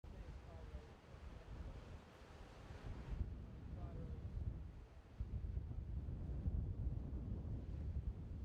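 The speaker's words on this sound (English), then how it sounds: "he's got some wind in his sail now" Wind gusts buffet the microphone at an outdoor windsurfing wave contest by the sea, a low rumbling roar that rises and falls in gusts, with faint surf underneath.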